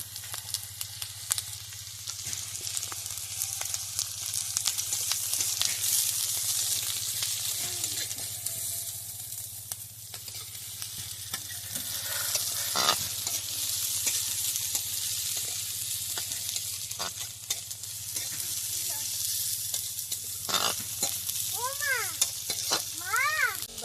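Carrot frying in a pan under a steady sizzle, with occasional scraping and stirring clatter over a low hum. Near the end a cat meows a few times nearby.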